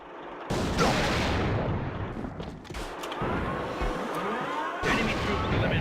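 Rapid gunfire bursts in the competitive shooter AVA as a player pre-fires through a wall, sharp cracks and booms repeating over several seconds amid dense game noise, with faint commentary underneath.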